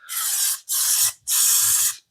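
Rust-protection spray hissing onto the body seams and double-panel edges of a Vespa LX scooter, three close, loud bursts of about half a second each with brief pauses between them.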